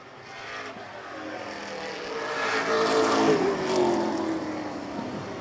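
Prostock race cars racing on a speedway track in a Norms Used Cars event, a blend of engines swelling and fading as the field roars past at moderate distance with no voices.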